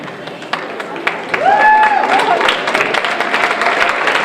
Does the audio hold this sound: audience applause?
yes